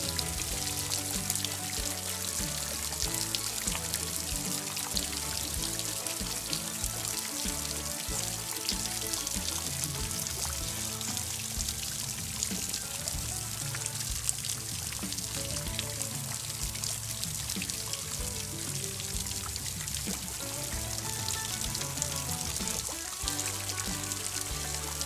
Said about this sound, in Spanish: No sé si se apreciará bien desde aquí el sonido del río